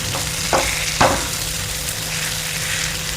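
Tomato and egg fry sizzling in a hot oiled pan as it is stirred, with a steady crackle and two sharp scrapes of the spatula early on.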